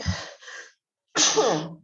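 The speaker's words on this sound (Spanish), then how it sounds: "tenía un estornudo, perdón, atravesado y no podía estornudar" Person sneezes during a biology class: a sharp in-breath and stifled burst, a silent pause, then a loud forceful sneeze, close to the microphone.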